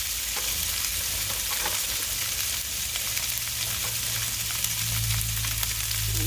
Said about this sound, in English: So keep frying that up nice and crispy.